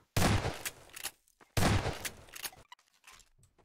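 Loud bursts of automatic gunfire in Garry's Mod Prop Hunt, two long rapid volleys about a second each separated by a short gap, followed by a few scattered, quieter shots.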